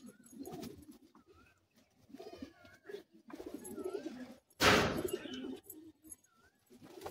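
Pigeons in a loft at Bagnan coo in repeated soft, rolling calls, some near and some farther off, broken by one loud rustling burst partway through; no one talks.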